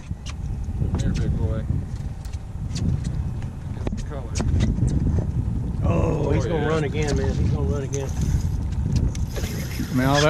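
A fishing boat's motor runs off Amelia Island, giving a continuous low rumble mixed with wind noise while voices talk over it.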